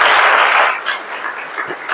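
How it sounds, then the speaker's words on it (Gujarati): Audience applause at a cyber security awareness program, a loud burst of clapping from a crowd that fades to a softer scattered patter within two seconds. "જોરદાર તાળી અમને માટે થઈ જાય છે"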